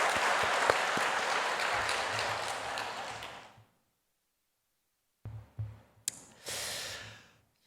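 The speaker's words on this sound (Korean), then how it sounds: "우리 교회학교 교사들 박수 한번 쳐주세요." Church congregation at a dawn revival service claps for its Sunday school teachers, a full burst of applause lasting about three seconds before cutting to silence, followed by a few scattered sounds and breaths.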